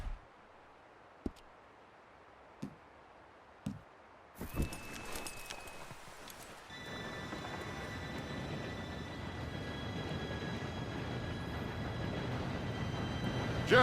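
A train rolls in within the video game Red Dead Redemption 2, with a low, steady rumble and a thin whine of wheels, preceded by a few sharp footstep-like knocks in a quiet room.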